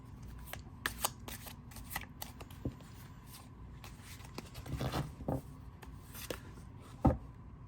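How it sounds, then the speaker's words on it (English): Tarot cards shuffled quickly by hand, a soft riffling and rubbing with a few sharper snaps, quiet and close with no talking. "And I'm just going to do a quick shuffle."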